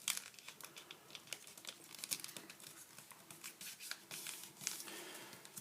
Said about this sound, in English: you're going to fold it inwards toward the middle